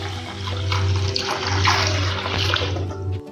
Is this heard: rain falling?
no